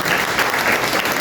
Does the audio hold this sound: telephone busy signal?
no